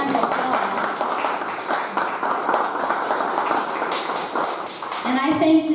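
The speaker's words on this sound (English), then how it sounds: "I think they deserve a round of applause" A live studio audience at a televised evening of journalism applauds with dense, sustained clapping for nearly six seconds, with a voice talking over it.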